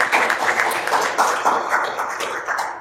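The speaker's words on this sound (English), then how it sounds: "I think you all deserve a round of applause for being great panelists today." An audience at a panel event applauds, a dense, steady patter of many hands clapping at moderate distance, fading slightly toward the end, with no voices standing out.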